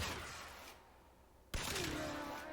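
Cernos Prime bow shots in the Warframe video game, fired at a corrupted heavy gunner: loud, dense bursts of impact and release noise, a quieter gap, then another sharp, sudden volley close up.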